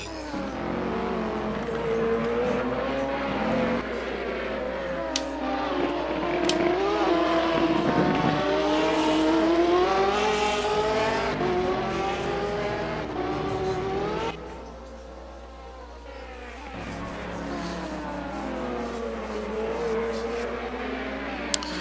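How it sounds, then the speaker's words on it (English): Ferrari 458 race cars in a video game race at the Spa-Francorchamps circuit, engines droning and shifting pitch as they battle, sustained and fairly close, with a quieter stretch midway. "Werner now trying to chase down Al Merriman, both driving Ferrari 458s."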